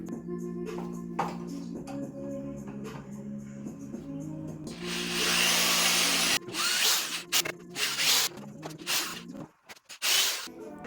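A power drill bores a couple of holes near the top of small pieces clamped in a vice grip, a loud whining burst that starts and stops in short runs over a steady mechanical hum.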